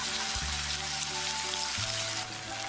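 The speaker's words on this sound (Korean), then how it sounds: "두부는 조림 때처럼 바짝 굽지 않습니다" Tofu lightly pan-frying in a pan, a continuous soft hiss and patter of sizzling oil heard close up, with a couple of low thumps and no talking.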